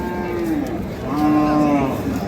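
A loud, close cow moo, drawn out and rising, with a second long low call following, over a murmur of crowd noise at the Ambari cattle market in Dinajpur, Bangladesh, where sacrificial bulls are sold.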